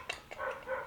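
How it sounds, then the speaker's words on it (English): Dogs bark in the distance, two quick yips and then a couple of longer barks, faint behind the quiet ambience of an indoor room. "I really hope that you guys don't hear those dogs."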